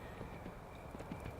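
Horse hooves clip-clop in the side-scrolling video game Kingdom: New Lands, a quiet, steady run of soft hoof thuds against a hissy background.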